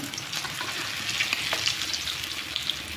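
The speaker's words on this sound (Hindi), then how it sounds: "अब हम इसमें ये चोखा धीरे धीरे डाल देंगे।" Mashed potato chokha filling going into hot oil in a pan, a close steady crackle and sizzle with soft wet scraping as it is added bit by bit, no voices.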